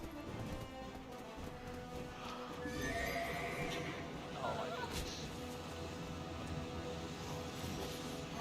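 A horse in Black Desert Online gives a loud, clear neigh over clip-clopping hooves and a low ambient game soundscape, followed by a shorter whinny.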